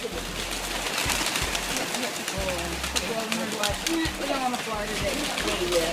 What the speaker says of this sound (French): Admirez donc ces beaux volatiles d'un blanc immaculé qui s'élancent tous ensemble vers le ciel et vers la liberté.